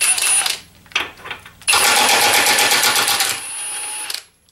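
A Milwaukee M18 FUEL 2763-22 high-torque impact wrench tightening a bolt gives short, loud rattling hammer bursts, then a sustained burst of about two and a half seconds before it stops abruptly.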